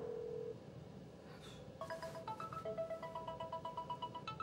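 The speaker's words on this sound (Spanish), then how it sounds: "¿Está llamando al señor? Intentaré hasta que conteste." A telephone being dialed, a short tone followed by a quick run of distinct keypad beeps of varying pitch, faint and close, over a quiet room background.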